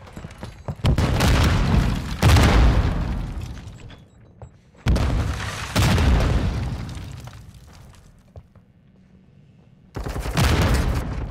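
A bomb detonating in Modern Warfare 2 Search and Destroy produces loud, heavy booming bursts with long rumbling tails, repeated three times with quieter gaps between.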